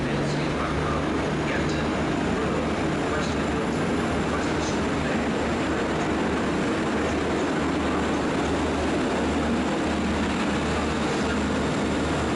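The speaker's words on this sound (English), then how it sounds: "175105 going to Manchester Piccadilly" Class 175 diesel multiple unit 175105 at Cardiff Central station, bound for Manchester Piccadilly, with a steady low engine drone and rumble that holds throughout, under faint intermittent chatter.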